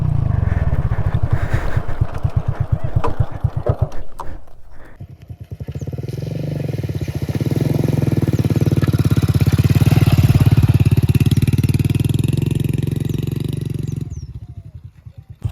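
A modified Hero Splendor motorcycle engine runs loud and close, its single-cylinder beat pulsing steadily with revs swelling and easing before cutting off near the end.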